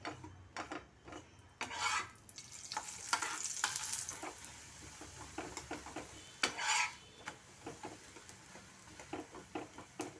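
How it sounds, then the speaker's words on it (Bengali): Food frying in oil in a pan, with intermittent sizzling bursts, scraping and stirring of a utensil against the pan, and occasional clinks, close and fairly quiet. "আমি তেল দিয়েই ভেজে নিচ্ছি।"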